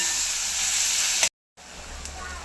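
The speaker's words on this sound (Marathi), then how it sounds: "त्याला आपल्याला 5 मिनिटं चांगलं फ्राय करून घ्यायचं" Egg bhurji fries in a pan, giving a steady, bright, hissing sizzle that cuts out briefly and then resumes a little quieter.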